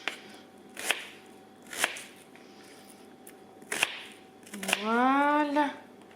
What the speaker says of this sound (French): Faut les hacher grossièrement